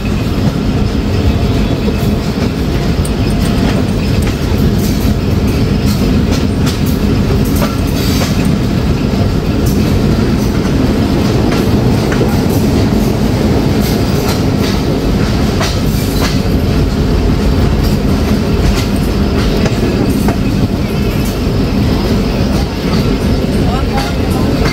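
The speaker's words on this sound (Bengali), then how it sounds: "ট্রেনটি প্রবেশ করছে তার চতুর্থ যাত্রাবিরতি স্টেশন" Dhalarchar Express rolls into the curved Ishwardi Bypass station, a steady loud rumble of wheels and carriages with rhythmic clickety-clack and faint squeals throughout, close by and continuous.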